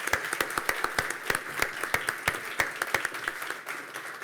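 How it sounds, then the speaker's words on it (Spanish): Applause at an international congress, sparse and distinct claps at a quick, fairly even rhythm from a small audience, moderately distant, thinning out toward the end. "Un aplauso para Lalita."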